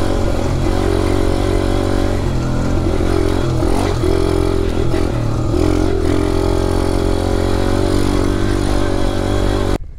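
Chinese enduro dirt bike ridden off-road over a tree trunk, its single-cylinder engine buzzing close and loud without a break, with small shifts in revs and a sudden cut at the very end.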